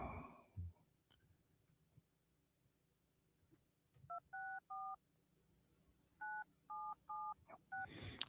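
Phone keypad dialing when calling back, a quiet room followed by a cluster of about three DTMF tones and then a second burst of about five, evenly spaced beeps with short gaps between them.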